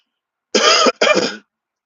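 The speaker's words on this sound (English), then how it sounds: "Now I know I've been coughing here and there." Two quick coughs or throat-clearing bursts from a sick man, close and fairly loud, back to back with a short gap between them.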